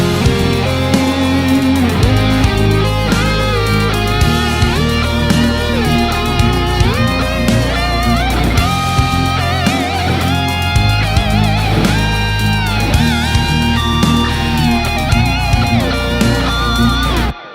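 An electric guitar solo played in harmonized thirds runs continuously over a full band backing, loud and busy with bending lead lines throughout, ending abruptly, with no voices.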